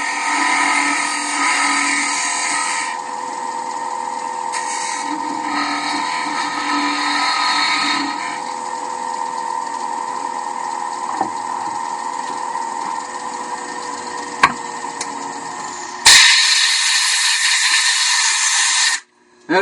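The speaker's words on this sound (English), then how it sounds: "So I'll just use a 3/8 spindle gouge." A 3/8 spindle gouge widens a hole in a wooden Christmas ornament globe on a running lathe: a steady motor whine with a hissing cutting sound, a brief louder burst near the end, then an abrupt stop.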